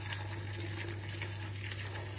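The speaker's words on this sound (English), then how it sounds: "this is boiling water I'm adding" Boiling water poured into a gooey beer-brewing mixture, a soft continuous trickling and splashing heard faintly over a steady low electrical hum, with no talking.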